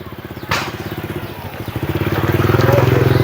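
A motorcycle tipped on its side idles nearby with a steady, rapid putter that grows slightly louder, while a rough crunching noise cuts in briefly early on.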